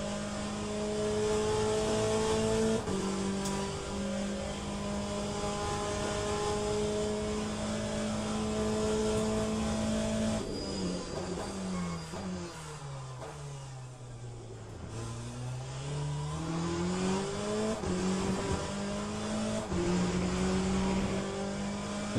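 Porsche MP2 race car engine in the Le Mans Ultimate racing game, a steady loud whine rising and falling through gear changes, with a deep dip and climb mid-lap, no talk.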